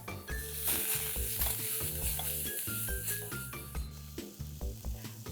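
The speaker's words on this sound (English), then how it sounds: "Saute all these vegetables for a minute." Chopped carrot and tomato sauté in a pan, giving a quiet sizzle with stirring noises under prominent background music.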